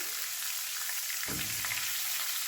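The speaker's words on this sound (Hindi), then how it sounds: "1 मिनट के लिए इसको और सौते करते हैं।" Food sautés in a pan with an even, continuous hiss-like sizzle and a single soft low thump of stirring midway, steady and unbroken, with no voices.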